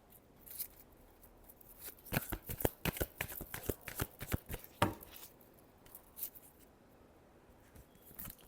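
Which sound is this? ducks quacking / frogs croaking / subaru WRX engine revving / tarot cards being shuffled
tarot cards being shuffled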